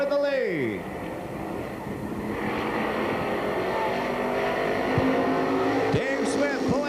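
Stock cars race around a track, engines roaring and swelling as cars pass close by, while an announcer talks over the steady din.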